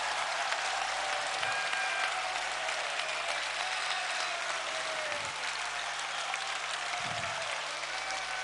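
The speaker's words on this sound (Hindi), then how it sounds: "यदि आप लोगों को अच्छा लग रहा है तो ताली बजाइए।" An audience at a Hindu religious discourse claps together in steady, continuous applause, moderately loud and unbroken for several seconds with no talking over it.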